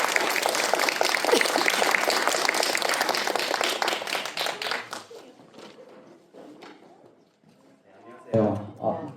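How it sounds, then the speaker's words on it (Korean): An audience at an information session on nationality and multicultural families claps loudly and densely, then the applause thins into scattered claps and fades, ending with a brief burst of nearby speech. "그럼 다 같이 박수로"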